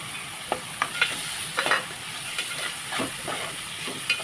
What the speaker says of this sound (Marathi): आता हे कांदा तेलामध्ये व्यवस्थित फ्राय करून घ्यायचं, परतून घ्यायचं व्यवस्थित